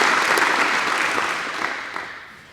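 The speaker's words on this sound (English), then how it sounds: "Please join me in a round of applause for Mr. Hunt" At a fall grant ceremony of a county foundation, the audience applauds Mr. Richard Hunt with close, lively clapping that gradually dies away over a few seconds.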